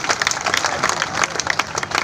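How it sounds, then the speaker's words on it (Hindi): Applause from an audience at a patriotic poetry recital for National Unity Day, dense and sustained clapping filling the whole moment with a bright, even crowd texture. "बार जोरदार तालियां बजाइए"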